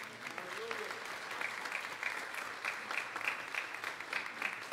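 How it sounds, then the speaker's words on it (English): A church congregation applauds a choir during a Sunday service, steady clapping throughout at moderate distance, with faint voices mixed in. "Let's give this choir a round of applause"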